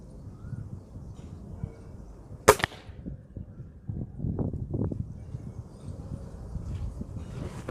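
A Gamo Silent Stalker .22 spring air rifle fires once as a sharp, close crack, followed by a faint softer knock and some quieter handling noises in a quiet setting.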